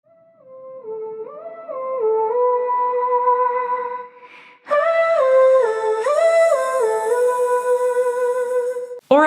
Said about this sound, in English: Automate a high or low pass filter sweep for an effect that sounds like this.